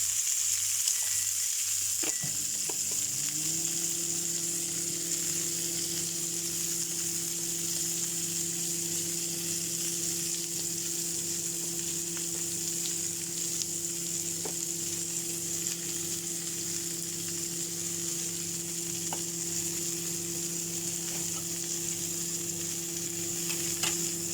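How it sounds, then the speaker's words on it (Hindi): Green and red capsicum, purple cabbage and onion fry together in a pan, producing a steady, quiet sizzle that continues throughout with a low, even hum underneath. "ग्रीन, रेड, ओके, और ये पर्पल कैबेज है, और ये ओनियन, इन सबको हम इसी में फ्राई करेंगे"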